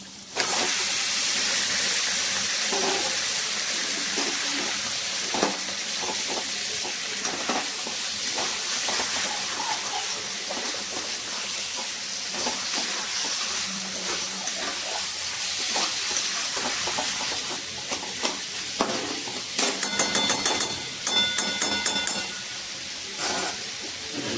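Chicken sizzles loudly and steadily in a pan of cooked-down yogurt and oil for a restaurant-style chicken do pyaza, a continuous hissing fry with small crackles and clatter, close and unbroken throughout.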